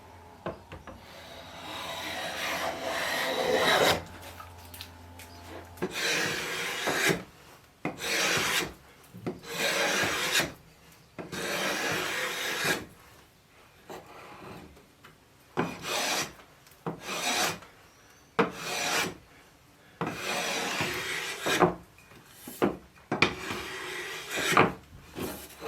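Repeated rasping strokes of a hand tool shaving the corners off a square wooden blank for a walking stick, turning it eight-sided; bursts of steady scraping come in quick runs separated by short pauses, close and fairly loud, with no talking.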